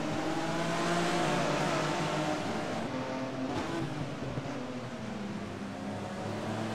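A BMW M3 E36 race car at the Nogaro circuit brakes and accelerates, its engine a loud, close droning roar with shifting pitch as it slows and picks up speed again.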